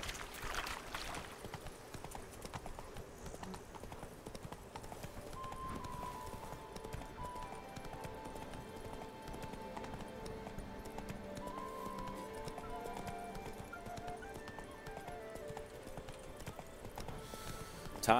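Roach, Geralt's horse in The Witcher 3: Wild Hunt, clip-clops along in a steady hoofbeat rhythm for the whole stretch, with a short whinny early on and game music and ambience underneath.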